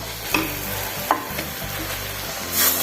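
Meat frying in a pan with onions and spices, a loud, constant sizzle with a few sharp stirring scrapes of a utensil through it, and no talk.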